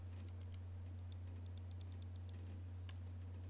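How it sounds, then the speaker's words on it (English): Sharp, light ticking clicks from an old apartment ceiling in the Everlasting Summer game, arriving in irregular bursts of several clicks, moderately close, over a steady low electrical hum with no talking. "What the fuck is that clicking sound?"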